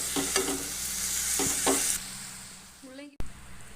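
Boiled radish being stir-fried in a pan, with steady sizzling and a few scraping stir strokes up close, then a brief sharp knock near the end.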